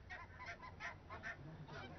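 A family of wild Nordic geese with newly hatched goslings, giving repeated rhythmic honks, moderately close and clear.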